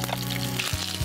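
Chopped onions fry steadily in a pan in a television cooking-show kitchen, a continuous close sizzle with a low hum running underneath.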